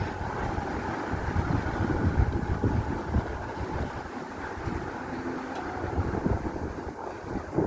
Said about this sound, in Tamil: நல்லா சில்லு சில்லு சில்லு சில்லு சில்லுன்னு காத்தடிக்குது